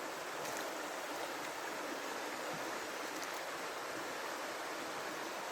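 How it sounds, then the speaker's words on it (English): A rainforest river rushes in a steady, broadband wash of flowing water, loud and continuous throughout with no voices. "Just listen to that river."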